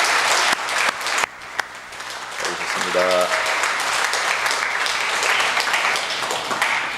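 A church congregation in Iksan, South Korea, applauds steadily to welcome two visiting council members during a Sunday service, while a voice speaks over the dense clapping.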